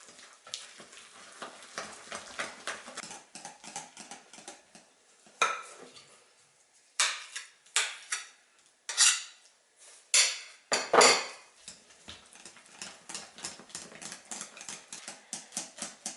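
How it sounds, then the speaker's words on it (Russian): Chilled banana cream folded into whipped cream and beaten by hand with a whisk, producing rapid rhythmic tapping and clinking bursts against the bowl, close and fairly loud, broken by short pauses and with no talk. "Остуженный банановый крем небольшими порциями перекладываю в сливочный крем и взбиваю с помощью венчика."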